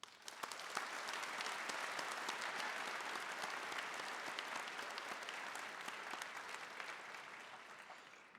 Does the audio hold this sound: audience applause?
yes